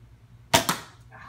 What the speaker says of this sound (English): Here's our last shot with this gun